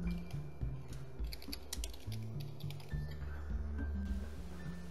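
Fingers type a new group name on a computer keyboard in flight-manual kneeboard software: a steady run of quick, light key clicks, close and clear over a faint musical background.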